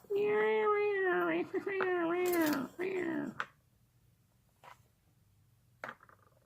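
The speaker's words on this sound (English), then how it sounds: "All the cats are going to try to mob it." Cats meow loudly and insistently in several long overlapping calls, then fall quiet with only faint soft clicks and rustles afterward.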